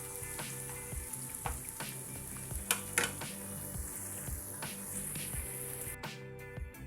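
Onions and chicken sizzle steadily in a pan for a spinach chicken curry, with a constant frying hiss and repeated scraping stirs throughout, close and moderately loud, without talk.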